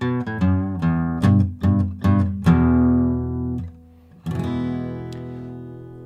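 An acoustic guitar in standard tuning plays the intro of a song in E, with a series of plucked bass notes and strums ringing out clearly, then a pause and a final sustained strum.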